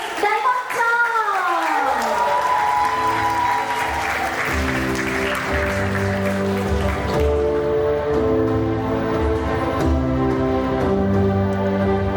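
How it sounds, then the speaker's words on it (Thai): Audience applause welcoming an award winner at a Thai business recognition ceremony, steady dense clapping filling the room for most of the clip alongside a musical fanfare, with some voice near the start. "ปรบมือดังๆ เป็นการต้อนรับและยินดีให้กับคุณนัทเดชชัยประกรณ์วงหรือ"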